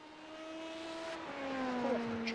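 Yellow LMP2 prototype race car in a sim racing event at Phillip Island, a whining engine tone rising and shifting through gears as it passes, fairly faint and alone.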